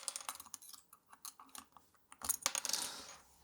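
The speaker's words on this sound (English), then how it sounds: "using the built-in keycaps puller" Keycaps being pried off a Keychron K8 Pro hot-swappable mechanical keyboard with a keycap puller, heard as a string of sharp, close plastic clicks and snaps followed by a brief rattling clatter.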